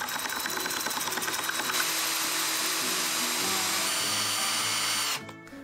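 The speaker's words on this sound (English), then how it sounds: "actually perforating the tiles with a masonry drill bit." A power drill with a masonry bit bores through a ceramic tile in a steady, high-pitched whine that shifts pitch partway through, runs for about five seconds, then stops abruptly.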